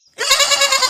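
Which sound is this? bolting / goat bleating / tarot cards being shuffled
goat bleating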